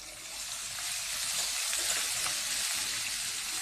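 Ginger garlic paste and garam masala fry in half a cup of hot oil in a karahi, giving a steady, loud, close hiss that holds evenly throughout with no voices.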